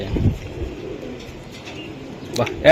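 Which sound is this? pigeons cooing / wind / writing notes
pigeons cooing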